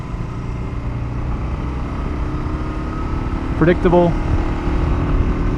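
A Kawasaki KLR 650 motorcycle being ridden, its engine and wind noise a steady loud rumble throughout. A rider briefly speaks over it near the end.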